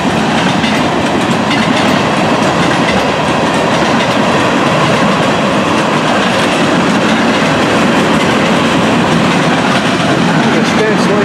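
Loud, close freight train cars rolling past, including a former coil-steel car refitted as a tank car, with a continuous heavy rumble, rattling wheel clatter and metallic rail noise throughout.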